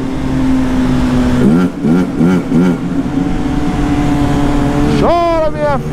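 A BMW 310GS motorcycle descending a mountain road with no air filter drones steadily, then revs in several quick rising bursts and again near the end, loud and close, with occasional voice sounds nearby.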